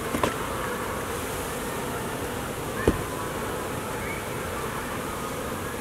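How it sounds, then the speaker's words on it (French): A dense, steady drone of many honeybees buzzing close by around a beehive, with a couple of brief knocks and no talking. "c'est pour ça qu'on ne veut pas nécessairement avoir des enfants autour parce que ça brasse beaucoup d'abeilles"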